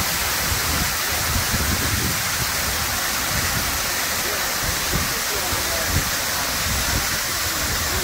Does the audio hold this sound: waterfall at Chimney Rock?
yes